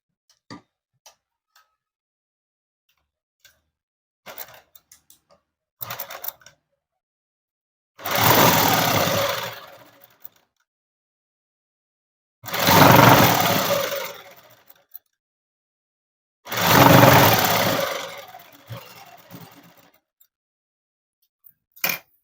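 A sewing machine stitching a folded sleeve hem runs in three separate bursts of about two seconds each, a close whirring drone, with light handling clicks and taps in the quiet gaps between.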